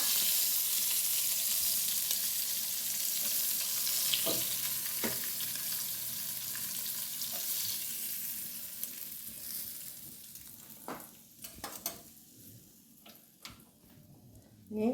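Tiger prawns fry in a pan, a steady close sizzle with a few ticks and stirring clicks, fading toward the end as the frying settles.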